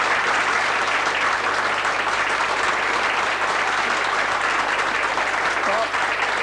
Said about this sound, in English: Johnny, how about a round of applause for our duvet artists?